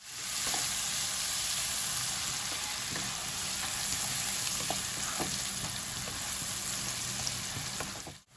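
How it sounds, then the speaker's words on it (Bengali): Chopped onions fry in oil with a steady, moderately quiet hiss and faint occasional crackles and stirring clicks, continuous throughout and untouched by speech. "দুটো পেঁয়াজ কুচি করে নিয়েছি, সেটাও তেলে দিয়ে দিচ্ছি। এটা এবার হালকা লাল করে ভেজে"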